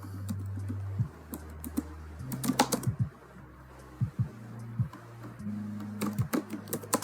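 Someone types an inquiry into CRM software on a computer keyboard, a steady patter of close, crisp keystrokes with brief pauses, over a low, constant electrical hum.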